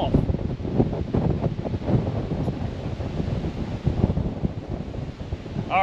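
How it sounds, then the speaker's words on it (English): Wind gusting across an open golf course, rumbling and buffeting the microphone in a continuous roar, loud and close, with no clear talk heard. "How about the wind blowing today?"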